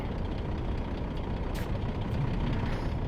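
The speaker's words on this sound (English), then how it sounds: "Just going to put the handbrake on." A truck idles with a deep, steady engine rumble as its air handbrake is applied, giving one short, sharp hiss of air midway through.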